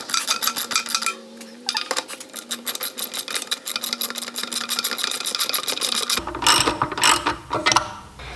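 A socket set ratchet drives a screw down into a workbench with rapid, close clicking that runs for several seconds and then turns into a few rougher, louder strokes. No talking is heard.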